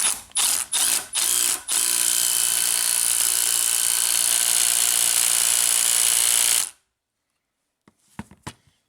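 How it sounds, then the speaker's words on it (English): A 3-jaw puller works a pulley off an army truck: several sharp mechanical bursts give way to a loud, sustained grinding whir that cuts off abruptly, followed by a few faint clicks. "let's try this 3-jaw puller. See if the pulley comes off."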